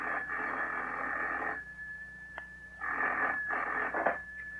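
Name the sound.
telephone ringing in an old radio drama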